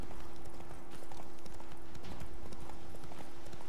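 Hoofbeats of Geralt's horse Roach in The Witcher 3 clip-clop in a steady, continuous rhythm over a low game ambience, moderately loud throughout.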